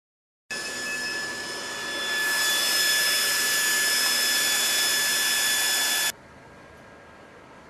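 A Mutoh 426UF UV printer runs a steady mechanical whir and hiss after a silent start, growing louder, then dropping to a quieter hum as printing finishes.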